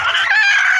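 A newly hatched chick gives a continuous high, loud cheeping cry held for just under a second, close to the microphone with no talk over it.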